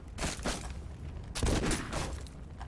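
Gunfire from a weapon in the video game Condemned 2: Bloodshot, heard as a few loud, rapid bursts of shots close up, separated by brief pauses.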